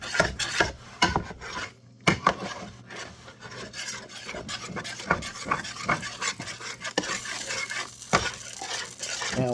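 Sausage gravy of flour and milk being stirred in a pan, a steady scraping, rubbing rhythm of utensil against the pan bottom with faint sizzling, close and continuous with no talk.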